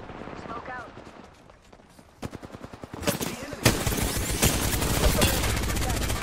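Gunfire in the Hell Let Loose video game, rapid machine-gun bursts and single shots starting quiet, then growing loud and dense in the second half, with voices in the background.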